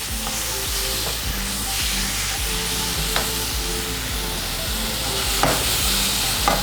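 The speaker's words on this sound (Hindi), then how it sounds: "तीन से 4 मिनट इसको सही से फ्राई करेंगे हम तेज हीट में" Chicken boti pieces fry in a hot pan over high heat with a loud, continuous sizzle and hiss, joined by occasional sharp clinks and scrapes of stirring.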